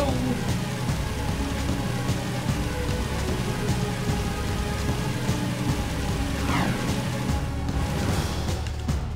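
Heavy rain pours steadily in the PS2 video game Jak 2, a dense constant wash that lasts throughout, with no break.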